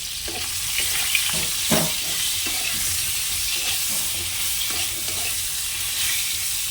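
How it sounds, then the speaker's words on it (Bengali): Steady close sizzling of pointed gourd frying in oil, with occasional stirring scrapes and clinks throughout. "পটলটা ভেজে নিই ভালো করে"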